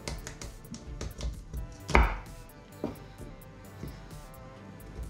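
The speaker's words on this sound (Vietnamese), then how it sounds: "Cái mì thì mình có thể chẻ ra cái miếng mình thích lớn nhỏ nha cả nhà." A knife chopping hard-skinned cassava into pieces on a board for a banana and cassava sweet soup: a series of close, irregular knocks with one louder crunching strike in the middle.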